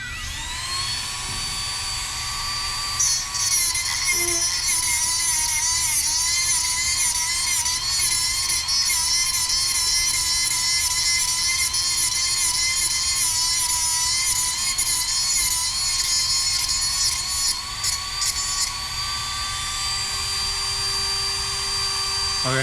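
Tungsten electrode sharpener grinding a tungsten welding electrode, a loud high-pitched whine holding steady for about twenty seconds with wavering grinding contact, close up and without talking.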